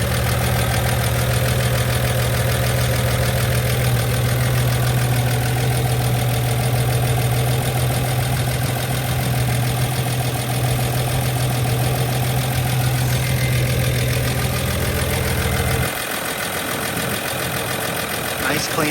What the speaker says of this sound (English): Stainless exhaust on it, which does sound kind of nice.